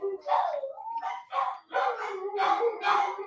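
Dogs, a corgi and a German Shepherd, howl and yip close by in a run of several uneven, wavering cries, with a voice faintly mixed in.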